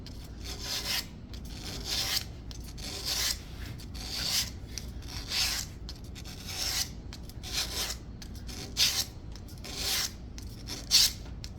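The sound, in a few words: sanding a wooden chair with 80 grit sandpaper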